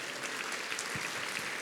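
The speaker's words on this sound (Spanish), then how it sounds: "Dale un fuerte aplauso a nuestro Dios." Brief applause from a church congregation, a dense patter of clapping at moderate level with no talk over it.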